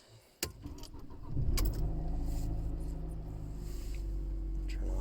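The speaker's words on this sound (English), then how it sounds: "So I'll just start the car." A car engine cranks and catches with a short jangle of keys first, then settles into a steady low idle rumble heard from inside the vehicle.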